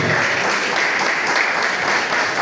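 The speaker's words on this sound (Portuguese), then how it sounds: "Você pode aplaudir a Jesus nesta noite?" A church congregation applauding during an evening service, a dense, steady wash of many hands clapping at once, loud and sustained without pause and without voices.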